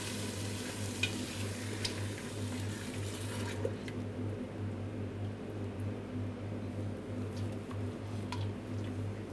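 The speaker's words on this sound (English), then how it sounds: "Give that a good stir." Tomato passata stirred into chana masala in a pan, a soft continuous wet stirring and gentle sizzle close by, with a few faint utensil taps early on and a low steady hum beneath.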